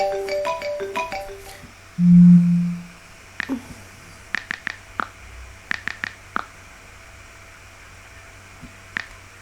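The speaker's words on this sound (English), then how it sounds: "I really thought my dad was calling, but my phone is right here." A mobile phone ringtone plays indoors as a series of short, bright chiming tones at irregular intervals, loud and close, following a low hum.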